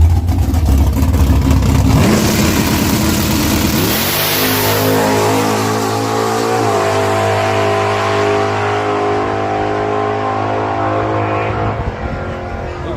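A drag racing car at I-30 Dragway revs its engine loudly and close, the pitch climbing and then holding a steady high roar for over ten seconds.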